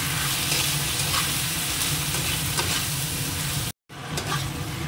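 A spice mixture sizzles steadily while being fried and stirred in a pan, with continuous close crackling. It breaks off briefly near the end, then resumes.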